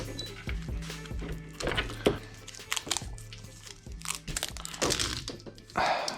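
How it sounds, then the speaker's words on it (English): Electrical tape is peeled off an old engine wiring harness from a CTS-V, heard as close, irregular crackling and crinkling rips with a steady low hum underneath. "I'm gonna peel back what I can and retape it"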